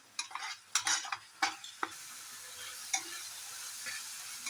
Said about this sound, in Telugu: టమాటా కొంచెం పచ్చివాసన పోయినంత వరకు ఇలా దగ్గరగా అయినంత వరకు కలుపుతుండాలి